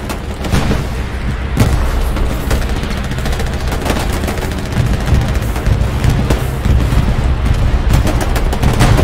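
Sustained bursts of MG 42 machine gun fire in the WWII shooter Hell Let Loose, loud and close, with rapid continuous volleys and booming distant explosions mixed in, almost no talk.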